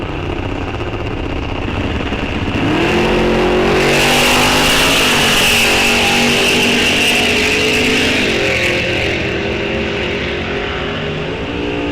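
An '87 Mustang and a '67 Chevelle launch side by side at a drag strip, engines roaring loud and continuous as they rev and accelerate hard down the track, rising in pitch through the run.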